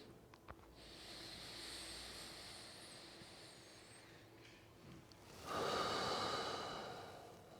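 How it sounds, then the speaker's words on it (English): Slow, deep breaths during a fitness routine, drawn in through the nose and released through the mouth, soft and close, with a louder airy exhale near the end. "breathing in deeply, in through the nose, and then gently out and slowly out through the mouth"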